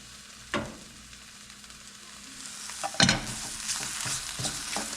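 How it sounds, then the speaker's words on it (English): Mushrooms stirred with double concentrate tomato paste in a pan for a hunter's sauce, giving a steady low sizzle with scraping spoon strokes, one sharp knock near the start and a louder clatter of stirring midway, no talk. "we've been stirring these mushrooms around with the double concentrate tomato paste"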